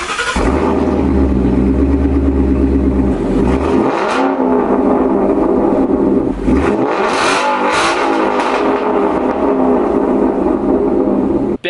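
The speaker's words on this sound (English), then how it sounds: "I'll give y'all a rev. This is just to hear what the car really sounds like and the crackle with it." A car with an aftermarket catback exhaust revs hard and loud, with deep throaty engine bursts, sharp crackles and pops as the revs drop, and several separate rev cycles heard up close with no talking.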